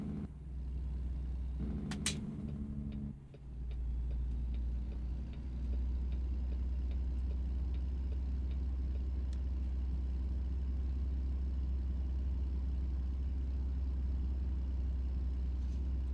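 A truck engine in American Truck Simulator rumbles at a steady low idle, close and continuous, with a brief higher mechanical burst and a short dip early on before settling into an even drone.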